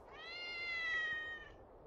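An animated cat gives one drawn-out, clear meow lasting well over a second, close and fairly loud, with no one speaking over it.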